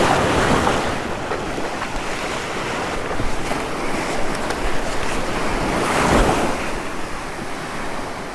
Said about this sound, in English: these waves are just enough to make it difficult